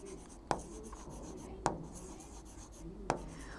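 Marker or chalk writing on a board in a chemistry lecture, heard as three sharp taps spaced about a second apart over a soft continuous scratching, close and fairly quiet.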